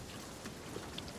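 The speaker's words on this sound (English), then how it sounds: "I've never seen it rain like this." Heavy rain pours steadily in a Sea of Thieves storm, a dense, even hiss of rainfall with a few faint drop patters and no gaps.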